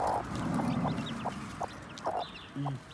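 Freshly hatched jungle fowl chicks peep in short, separated calls, close by, with a few slightly longer chirps and soft clucking tones among them.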